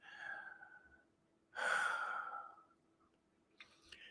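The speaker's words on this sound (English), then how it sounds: "Take another deep breath." Deep breath during a guided relaxation exercise: a soft inhale, then a louder, longer exhaling sigh close by, followed by quiet, with a faint rustle at the end.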